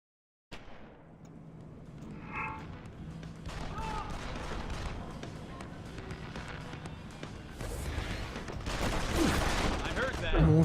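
Gunfire in the video game Deus Ex: Human Revolution, a sustained clatter of shots and impacts that grows busier and louder toward the end, with occasional talking over the action.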